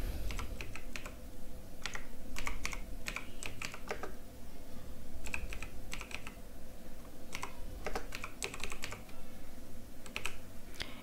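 Steady typing on a computer keyboard while entering a name into an online translator, with irregular clusters of key clicks over a constant low hum for the whole stretch and no voice.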